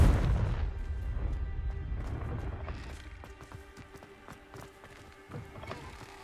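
A Confringo spell blast in the Hogwarts Legacy video game opens with a loud booming burst that fades, followed by scattered sharp crackles and clicks.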